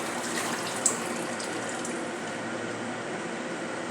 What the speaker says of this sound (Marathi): मी पाणी घालून